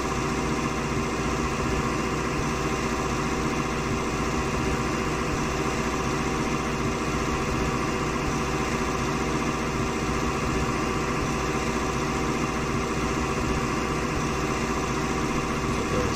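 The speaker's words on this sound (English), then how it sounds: "Nice sounding little tractor." A Zetor Proxima tractor engine idling in the Farming Simulator 19 video game, a steady, loud, droning hum with constant low rumble and no change or talk throughout.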